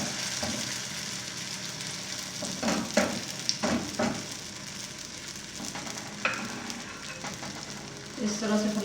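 Omelette paratha batter sizzles and fries steadily in a hot pan, a continuous close crackling hiss with occasional scraping and stirring clatters from a spoon.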